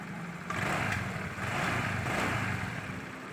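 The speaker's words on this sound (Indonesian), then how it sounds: "Jadi starter tidak mau hidup." A Honda Vario scooter's electric starter, with a suspected weak CDI, cranks without the engine firing. It makes a steady, close whirring drone that runs for about three seconds after a brief quiet start.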